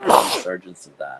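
A single loud, close sneeze bursts out, followed immediately by a person talking.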